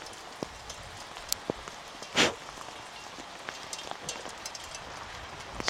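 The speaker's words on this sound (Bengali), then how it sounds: "দেখুন কি হারে বরফ পড়ছে।" Heavy snow or sleet falling in a mountain valley, heard as a dense, even patter of tiny impacts with scattered sharper ticks and one brief louder rush partway through, no voices.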